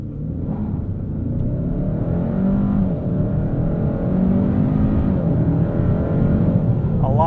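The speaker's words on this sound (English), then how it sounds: "So let's try a launch here, just no launch control, just foot into it, off the line." A 2021 Hyundai Sonata N Line with its 2.5-liter turbo engine launches off the line with traction control on, giving a loud, steady engine roar and rumble heard from inside the cabin.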